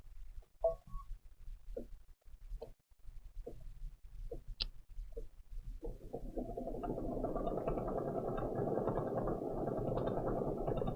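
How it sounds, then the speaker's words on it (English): A computerized embroidery machine stitches a digitized floral border design in light blue thread. A few isolated clicks give way to a steady, dense mechanical whirr of rapid stitching that runs continuously and fairly close. "I'm using a sewing machine or embroidery machine that will do just about anything"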